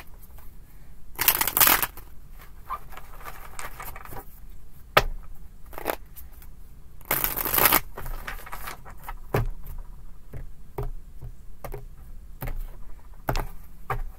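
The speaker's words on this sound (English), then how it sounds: "Two more shuffles." Tarot deck shuffled at a reading table, two loud riffling bursts a few seconds apart with softer card taps and handling clicks in between, close and otherwise quiet.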